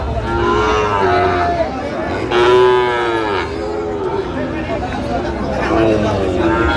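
Sahiwal bull calves moo loudly and repeatedly close by at a livestock market in Chuadanga, Bangladesh, with a murmur of crowd chatter in the background.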